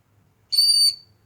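Pet baby birds give a single bright, high chirping call lasting under half a second, clear and close, alone against a quiet background with no talking.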